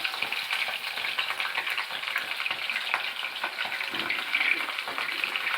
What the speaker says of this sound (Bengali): এগুলো এখন ভাজা হচ্ছে আলু